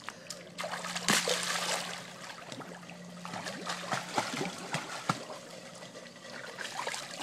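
A young child swims in a pool, giving soft, close trickles, small splashes and sloshing water throughout, with faint background sounds and no clear talk.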